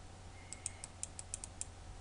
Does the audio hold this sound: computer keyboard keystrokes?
yes